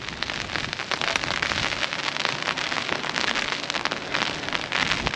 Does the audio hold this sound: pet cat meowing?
no